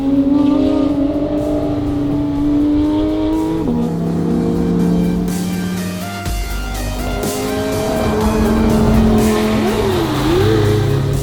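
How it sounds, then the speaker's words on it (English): A Porsche GT3 RS engine revving while driving through downtown Toronto, loud and close, its pitch climbing and dropping through gear changes with brief dips between pulls. "Listen to that GT3 RS"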